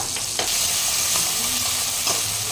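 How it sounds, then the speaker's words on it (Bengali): Ginger-garlic paste frying in hot oil with tomato in a pan for a fish dish, a steady close sizzle with a few soft stirring scrapes. "এটা দিয়ে আরও আমি 3-4 মিনিটের মতন একটু তেলের উপরে ফ্রাই করে নেব।"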